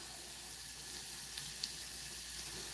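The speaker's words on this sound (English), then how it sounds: "I just want them to saute down that little bit." Onions sautéing in a pan for a thick onion gravy give a soft, steady sizzle at low level, with a couple of faint clicks partway through and no voices.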